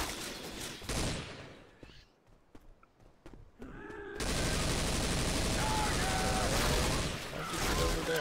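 Gunfire in a video game during a charity stream, with bursts of rapid shots, a brief quieter lull, then sustained dense firing and game noise, with players talking over it.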